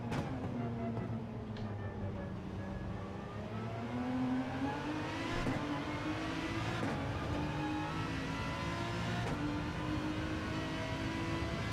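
Race car in Gran Turismo 7 lapping Circuit Gilles Villeneuve during daily race qualifying, a steady loud engine drone with rising and falling revs through gear changes and braking, heard alone throughout.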